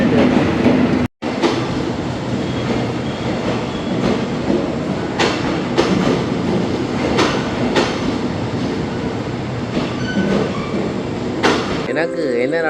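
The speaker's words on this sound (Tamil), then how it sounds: "ட்ரெயின் போகுது பாருங்க" Train rolling along rails on a Thailand to Malaysia route, a loud, continuous rumble with rhythmic wheel clicks and clatter, a brief dropout early on and a voice speaking over it.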